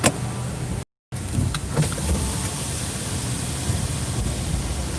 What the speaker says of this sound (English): So that's Bastion Falls.